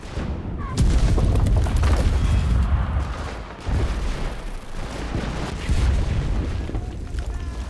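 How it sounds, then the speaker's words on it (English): Grenade blast in the shooter game Enlisted: a loud, close boom followed by dense rolling battle noise with further blasts and gunfire, continuous throughout. "Grenade!"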